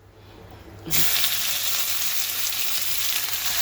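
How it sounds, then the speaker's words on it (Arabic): Beef hits a very hot pan with a sudden loud sizzle about a second in, after a quiet start, then keeps hissing steadily and close. "هاجي على طاسه سخنه قوي قوي قوي، لازم تكون سخنه قوي، وادي اللحمه بتاعتي صدمه"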